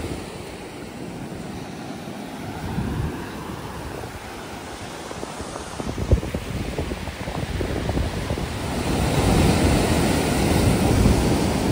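Sea waves wash steadily at the confluence of a creek and the sea at high tide. The surf is close, a broad noisy rush mixed with wind buffeting, and grows louder toward the end with no speech.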